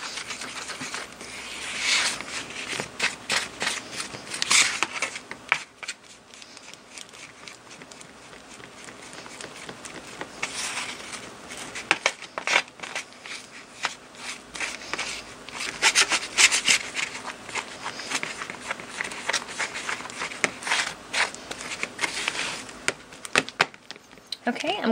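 Stirring homemade texture paste in a container, an irregular scraping and rubbing that swells and fades in bursts, close and fairly quiet.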